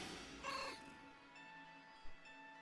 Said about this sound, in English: Such a cute little noise the illusion cat makes.